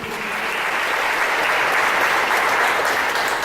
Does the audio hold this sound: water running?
no